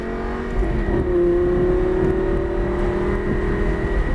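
An exotic sports car accelerates hard out of a corner on a race track, its engine droning loud and steady with a rising tone, heard from inside the car with no talk.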